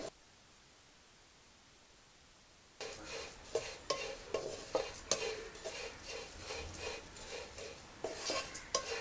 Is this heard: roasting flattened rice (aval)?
yes